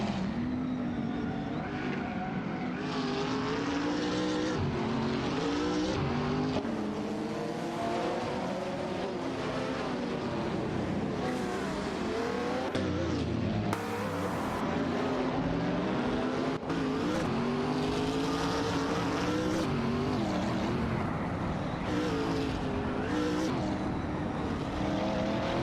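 Race car engines roar continuously in an AI-driven racing video game as cars overtake one another, a loud, layered drone with rising and falling pitch sweeps throughout and no talking.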